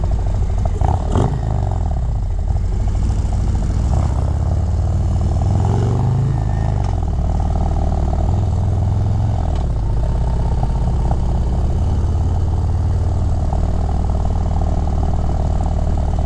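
A Harley-Davidson Road Glide ST with a Stage 4 135 engine rumbles and revs, a deep throbbing exhaust with a couple of throttle blips early on, then a steady loud idle-like drone throughout.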